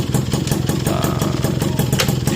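A Yamaha motorcycle engine with a slipping clutch and worn crankshaft runs loud and close, its pulsing mechanical chug steady and rough throughout with no speech over it.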